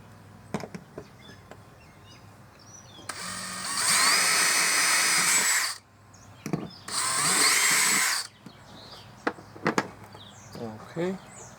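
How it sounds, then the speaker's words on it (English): A power drill bores a hole into a plastic boat hull in two sustained whirring bursts, close and loud, with scattered clicks and handling knocks around them. "So let's drill a hole."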